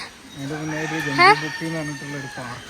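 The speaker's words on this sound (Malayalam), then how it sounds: "അവിടെ കിളികളെ സൗണ്ട് ഒക്കെ കേൾക്കണേ" A rooster crows loudly nearby in Wayanad, Kerala, a drawn-out call with clucking bird sounds around it and a hint of voices.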